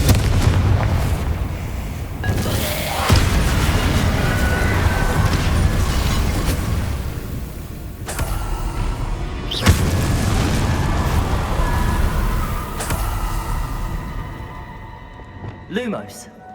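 Confringo explosive spells in the video game Hogwarts Legacy: several heavy booming blasts spaced seconds apart amid game noise, with a voice talking throughout.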